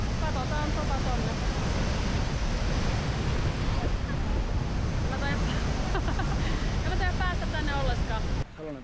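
A waterfall in Bali rushes with a loud, steady, broadband roar that fills the whole clip without break, close by and unchanging until a brief dip at the end.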